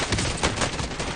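A brief, dense burst of gunfire in the video game Call of Duty Warzone, set in Verdansk: rapid overlapping shots that sound loud and crackling, with no talking.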